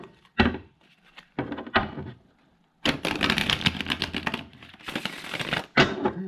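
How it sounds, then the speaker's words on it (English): Tarot cards riffle and snap in bursts, a papery fluttering shuffle repeated several times with short pauses between. "I'm going to shuffle up and see what message we've got today."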